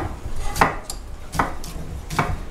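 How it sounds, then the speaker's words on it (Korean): Knife blade striking a cutting board as onion and vegetables are chopped for Korean pancakes, three crisp separate chops spaced about a second apart, close and moderately loud. "자 이거 팍팍 썰어야 돼"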